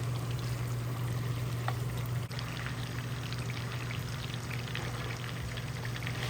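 Steaks sizzle in a bath of butter in a cast iron skillet, a steady close hiss and crackle with a low hum beneath, continuous throughout without talk.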